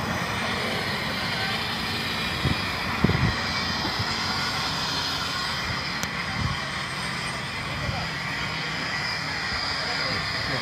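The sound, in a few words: airplane jet turbine running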